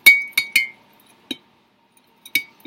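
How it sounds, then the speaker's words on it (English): Essential oil scents being stirred in a glass, producing a few sharp clinks of a utensil against the glass, three quick taps then scattered single clinks, close and otherwise quiet. "let's stir these scents up and smell them"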